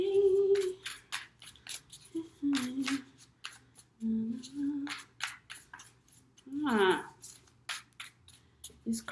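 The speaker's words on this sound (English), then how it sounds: "These cards shuffle so nicely" Tarot cards riffling and sliding in repeated crisp shuffling bursts, close by, alternating with a person talking.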